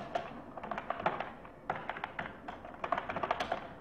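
Fingers tapping out C code on a computer keyboard, a soft, fairly close run of quick irregular key clicks in steady bursts with short pauses.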